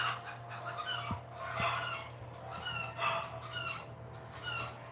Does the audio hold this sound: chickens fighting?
yes